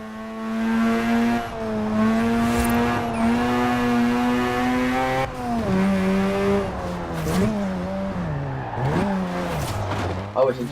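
Mazda RX-7 in Forza Horizon 4 drifting, its engine note steady and loud, then wavering and dropping as the tail slides out, with tyre noise underneath and a voice talking over it throughout.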